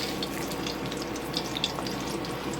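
Frikadellen, German meat patties, sizzle steadily in a frying pan after being flipped, a dense, even crackle of hot fat with no voices.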